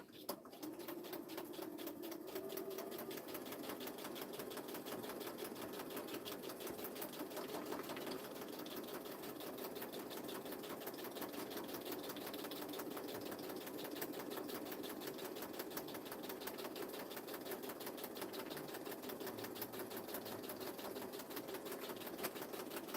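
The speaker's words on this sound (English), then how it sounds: "I am going to stitch along the top and the bottom" A sewing machine stitches along the top and bottom of a 3D paper cake project, a fast, steady mechanical whir and rapid needle clatter running continuously at low volume.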